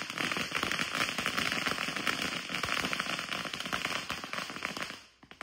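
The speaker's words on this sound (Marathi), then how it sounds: "तिकडे फटाक्यांची तयारी झालेली आहे." A dense, continuous barrage of firecrackers crackling and popping at a Ganpati festival in the Konkan, loud and rapid-fire for several seconds before cutting off abruptly at the end.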